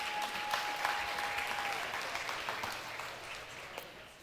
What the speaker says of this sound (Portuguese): Uma salva de palmas para quem trouxe uma Bíblia hoje